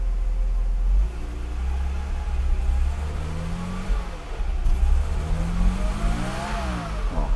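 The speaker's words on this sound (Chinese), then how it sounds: "我一踩油门，它就会顿了，油门上不去" A 1993 Mercedes 300GE engine with a fuel starvation fault hesitates under throttle, its revs rising and stumbling in uneven surges over a deep steady idle rumble, close and loud.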